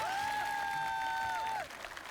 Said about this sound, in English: let's give it a round of applause for Team Shanghai